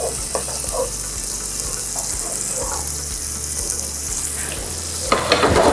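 Scallops searing in a pan give a continuous close sizzle, with a louder burst of spattering and clatter near the end.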